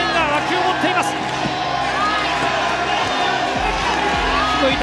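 A boxing arena crowd roars and cheers continuously in the background while a commentator speaks excitedly over the noise.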